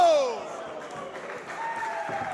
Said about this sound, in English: this crowd showing their appreciation